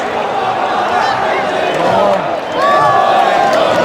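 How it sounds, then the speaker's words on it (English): A football stadium crowd at an Al Riyadh versus Al Ahli match cheers and roars in a continuous loud wash after an Al Ahli win, with whistling and a voice talking over it. "Check the crowd. Everyone excited."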